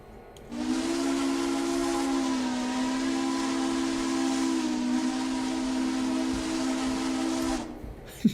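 Steam locomotive whistle in the train game Railroader, one long steady blast held for about seven seconds with a hissy edge, loud and close, ending with a brief clunk.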